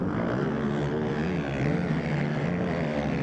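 Several ATV motocross engines race flat out at an AMA ATV MX round at Aonia Pass, a loud, continuous buzzing drone with shifting pitch and no talk over it.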